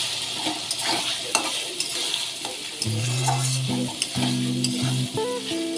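Spice masala with ginger-garlic paste, salt and ground spices being stirred and fried in a pan, a steady sizzle with spoon scrapes and clinks against the metal, while a sustained tonal hum runs through the second half.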